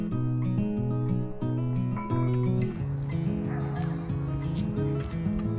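A small dog yips, whimpers and barks excitedly at being reunited with its owner after six months apart, its cries loud and close over steady music.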